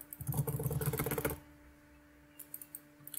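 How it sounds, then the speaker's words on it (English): Rapid keyboard and mouse clicking during a League of Legends Rengar game, a dense burst of close, crisp taps for over a second, then a quiet hum and a few scattered clicks near the end. "I'm also going to apologise for all the clicking you're probably hearing."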